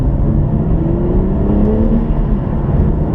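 BMW M240i two-door coupe with a ZF automatic gearbox under hard acceleration, a steady loud engine drone and whir with rising tones, close and continuous with no talking.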